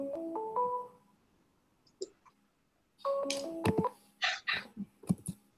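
A phone ringtone for an incoming call plays a rising melodic phrase, pauses with a few faint clicks, then repeats the tune amid clicking and short bursts of handling noise.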